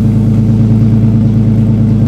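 An LS2 V8 swapped into an offroad Nissan 240SX idles loudly and steadily up close, a deep even rumble with a regular firing pulse and no talking.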